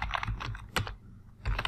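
Command being entered on a computer keyboard while setting up PostgreSQL 13 on Fedora, a quick run of close, crisp key clicks in uneven clusters with a brief pause near the middle.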